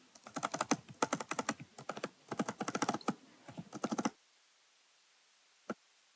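Fast typing on a computer keyboard, close and crisp, in quick clattering bursts with short pauses, then a few seconds of quiet ending in one last keystroke.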